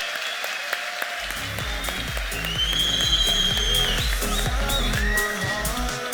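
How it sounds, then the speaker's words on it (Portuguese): Audience applause following a presentation at a tech event, a dense steady patter of many hands clapping that swells and carries on for several seconds. "Salva de palmas!"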